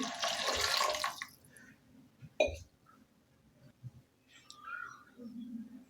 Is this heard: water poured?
yes